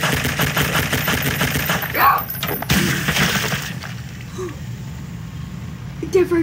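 Shotgun blasts in the game Garry's Mod with a dismemberment mod, several sharp bursts in quick succession with breaking, shattering crashes, loud and close under ongoing voices.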